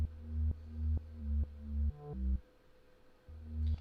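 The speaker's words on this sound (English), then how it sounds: "So with the sub with the sidechain sounds like this." Sub bass pumping under an EQ sidechain, a deep sustained low tone that swells back up after each duck in a steady rhythmic pattern, with a brief pitch change midway and a short gap before it resumes.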